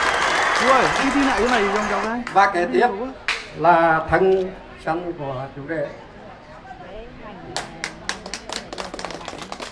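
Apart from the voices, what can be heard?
wedding guests applauding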